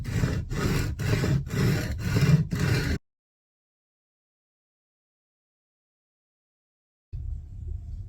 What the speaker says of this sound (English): We're gonna level these down until we don't see those dents in the fret surface anymore.